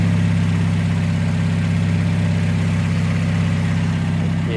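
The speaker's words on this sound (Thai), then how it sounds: "เครื่องยนต์เรียบนะครับ" A Toyota Vios 1.5G engine idles evenly and close by, a constant low hum with a steady rumble and no changes in pitch.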